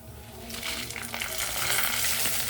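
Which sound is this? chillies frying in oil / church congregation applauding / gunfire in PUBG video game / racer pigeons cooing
chillies frying in oil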